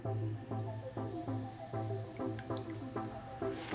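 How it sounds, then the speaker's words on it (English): A LOL Surprise JK doll is dipped in hot water, giving a rhythmic series of close, wet sloshing and dripping splashes, each dip about half a second apart. "I'm gonna dip her face one more time to make sure her face didn't change."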